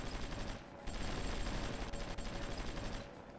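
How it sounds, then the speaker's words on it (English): Bombardment explosions in a strategy war game set on the Oder line, a dense continuous rumble of blasts and crackling fire, fairly faint and steady with no talk. "we're taking some bombardment damage from there"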